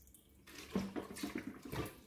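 Water poured into a pot of beef being cooked with vinegar, salt, turmeric and chilli powder; a run of splashing, trickling pours with a few distinct bursts, fairly quiet and close, with no talking.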